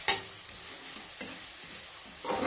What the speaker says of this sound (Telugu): ఒక గిన్నెలో ఆయిల్ అనేది వేసుకొని దాంట్లో ఆనియన్స్ బాగా వేసుకొని